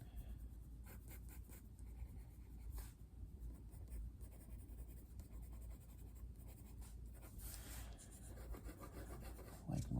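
A pencil sketches quick dashes on paper, making continuous close scratchy rubbing strokes at low volume with short rhythmic bursts throughout.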